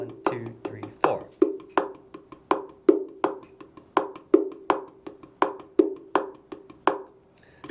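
Hand-struck bongolele tones repeat a steady groove from a song, each hit ringing briefly with a hollow, resonant body, played close and alone for several bars.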